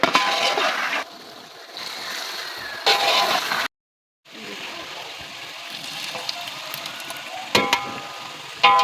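Chicken fries with spices in a pan, a loud sizzling hiss with stirring and splatter that cuts out briefly and resumes, with bursts of clattering.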